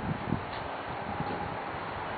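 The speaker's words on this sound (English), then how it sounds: "Wow, that's a gusty wind." Steady, rushing wind on an outdoor deck buffets the microphone, with a low rumbling roar and occasional stronger gusts throughout.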